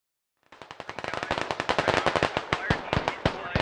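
Rapid automatic gunfire from the military shooter game Squad bursts in after a short silence and keeps up a fast, steady stream of sharp shots, fairly close and loud.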